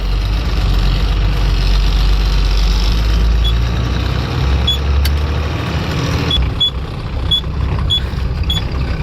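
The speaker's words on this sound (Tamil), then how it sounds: "டீசல் டீசல் கத்த ஆரம்பிச்சிடுச்சு அப்படியே கொஞ்சம் கொஞ்சமாக மூவ் ஆகுது" A diesel engine at a harbour runs steadily at close range, a loud continuous low rumble with a knocking idle that keeps on throughout, as a boat or vehicle starts to creep slowly forward.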